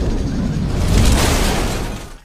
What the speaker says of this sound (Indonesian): Yo mengeluarkan tembakannya dan tangkinya meledak